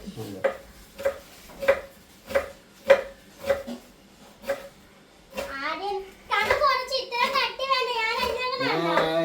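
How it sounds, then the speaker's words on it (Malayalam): A knife chops onions steadily on a board, about eight evenly spaced strokes, then children start talking and the chopping gives way to their voices. "ശരണ്യ അരിയാൻ തുടങ്ങി"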